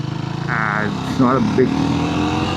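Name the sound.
small motorcycle engine while riding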